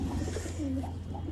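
A large-tailed pigeon at a Lucknow pigeon market gives a low coo amid soft market background noise, brief and moderately close.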